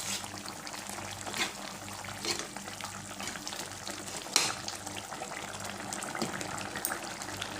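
A fish head curry with tomato simmers and bubbles in a pan while a spoon stirs through it, with a few soft scrapes rising over the continuous wet bubbling.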